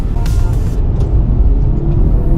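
A Mercedes-Benz W207 fitted with a DTE electric throttle controller accelerates hard, its engine a loud, steady low roar heard from inside the cabin for the whole stretch.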